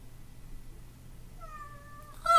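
A cat meows near the end, a clear rising harmonic call over a low steady hum, with a louder burst right at the close.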